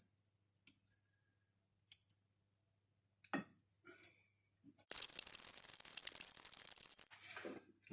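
A knife cuts through banana for vegan banana cookies: a few soft clicks and short cuts at first, then a dense two-second burst of squishy, scraping cutting up close, followed by lighter handling.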